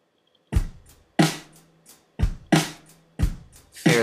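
A soloed MIDI drum track in Logic Pro X played dry with no reverb: sharp kicks and snare strikes in a steady, sparse pattern, each decaying quickly into silence.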